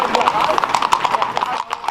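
Horses' hooves clip-clop on a ride through a village in Slovenia: quick, regular, close hoofbeats that run steadily under a speaking voice.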